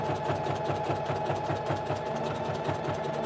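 A domestic sewing machine stitches through fabric strips wrapped with batting for a jelly roll rug, a rapid, even mechanical chatter running continuously at close range with no talking.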